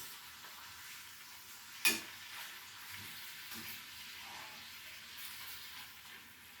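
Bacon frying in a pan for a pancake breakfast, a steady broadband sizzle and crackle with one sharp clank or scrape near the start, heard alone at moderate volume.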